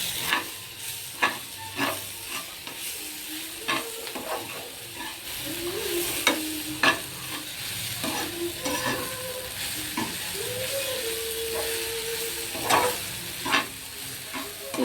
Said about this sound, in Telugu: తడిపి పెట్టుకున్న బొరుగుల్ని అందులో కలిపేసుకుంటాము.